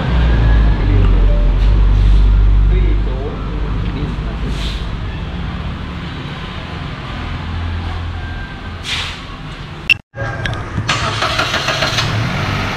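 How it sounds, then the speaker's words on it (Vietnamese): A used car's engine starts after gearbox oil has been added and then idles with a low steady hum, loud at first and then quieter, with a sharp clunk near the end. "đổ dầu xong thì bây giờ phải nổ máy để cho nó cho nó tuần hoàn dầu đấy"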